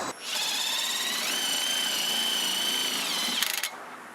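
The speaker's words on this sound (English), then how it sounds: "Most people will grab a impact drill with a 3/4 inch socket and they'll just use it." An impact drill with a 3/4 inch socket whirs steadily and loudly at close range, its pitch rising once partway through, then it stops with a brief rattling burst.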